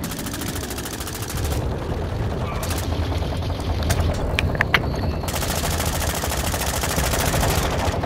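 Sustained automatic gunfire in Call of Duty Modern Warfare 2, dense rapid rattling bursts that barely let up, loud and close, with several weapons firing at once.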